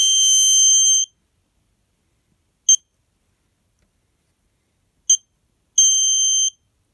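An electronic alarm on a Snap Circuits light-triggered kit sounds in bright, buzzy tones: a one-second burst, two short isolated beeps, then a final longer burst, loud and close with silence in between.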